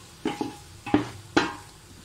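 A metal spoon scrapes and clanks against a cooking pot three times while spices are stirred into chicken pulao, close knocks with light sizzling underneath and no speech.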